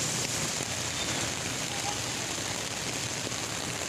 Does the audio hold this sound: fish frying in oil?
no